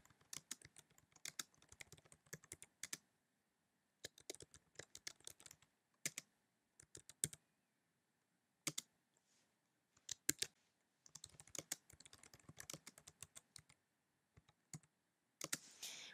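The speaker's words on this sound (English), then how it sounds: "I'm typing a couple of words a few times" Bursts of computer keyboard typing, quick clicking keystrokes in clusters separated by short pauses, close and fairly quiet.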